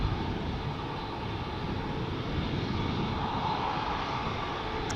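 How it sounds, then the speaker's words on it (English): Embraer E195-E2 jet departing an airport for Birmingham, a steady, fairly faint broadband engine rumble holding level throughout, distant and alone, with no voices. "It is the E2 Embraer 195 to Birmingham."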